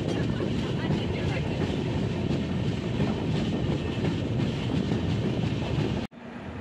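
Mandovi Express train pulling out of a station, a steady loud rumble and rattle of rolling carriages heard from on board, cutting off abruptly near the end.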